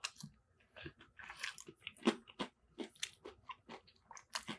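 Close, crisp crunching as someone bites and chews a fried crab and cheese wonton, loud snaps between softer chewing sounds, with no talking.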